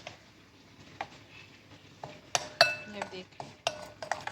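A spoon clinks against a bowl while chicken marinade with garlic powder is mixed, scattered close taps and scrapes, with faint talk underneath.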